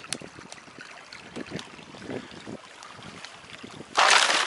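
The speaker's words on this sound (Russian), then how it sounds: "Ветрище у нас, как всегда, сильное" Strong wind buffets the microphone in rough gusts outdoors near a pond on a sunny day, building to a loud roar near the end.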